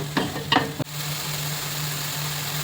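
Spice masala of turmeric, Kashmiri chili powder and red chili powder sizzles steadily in oil in a pan, after a few brief stirring scrapes at the start.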